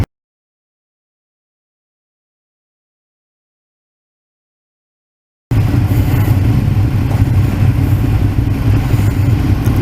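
Ducati Monster 821 motorcycle engine running with a steady, close mid-pitched rumble that starts abruptly after a long stretch of silence.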